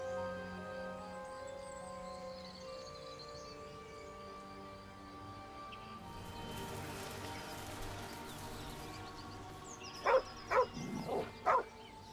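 A dog in the Baldur's Gate 3 video game barks a quick burst of three or four sharp barks near the end, after a long stretch of quiet, sustained game music and ambience.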